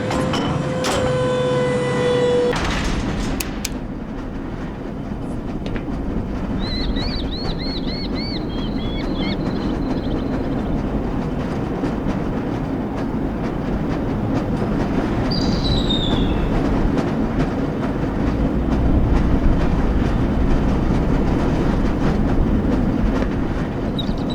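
Lever-controlled rail train in the Black Mesa game, a steady rumbling roll along the track with faint clicking and occasional high electronic beeps, continuous and fairly loud with no talk.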